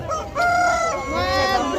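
A rooster crows loudly and close by at a busy poultry market in Pitnak, Khorezm, its long harmonic call rising and falling across the stretch over a murmur of market noise.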